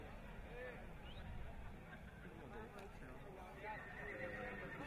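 A horse whinnies and hooves clip-clop at a young-horse sale in western France, the calls rising over constant crowd babble and a loud public-address voice talking throughout.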